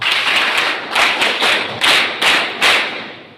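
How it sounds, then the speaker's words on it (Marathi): Students at a school talk on law give a round of loud group clapping, arriving in several distinct surging bursts, each swelling and fading, with no talking over it. "आपण एकदा सर्वजण जोरात टाळ्या वाजवा"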